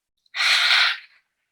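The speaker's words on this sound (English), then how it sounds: "And then open your mouth and exhale again." A single open-mouthed exhale during a vinyasa flow yoga session, a breathy rush of air lasting under a second, close and fairly loud, then fading out.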